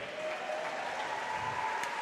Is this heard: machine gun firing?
no